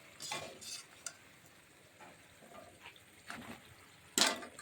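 Fried palm pithas are lifted from hot oil and dropped into sugar syrup, with a few soft clinks and stirring sounds spread across a quiet stretch, ending in one louder, sharper clatter near the close.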